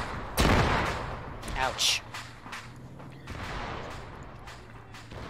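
A tank is hit and blows up in a war video game, heard as a sharp, loud blast, followed by a second burst and then scattered gunfire and rumbling. A player speaks over it.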